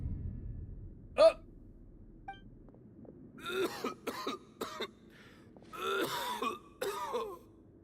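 A character in the video game Genshin Impact coughs harshly in a close, loud series of bursts. One sharp throat-clearing sound comes first, then several quick clusters of coughs with short pauses between them.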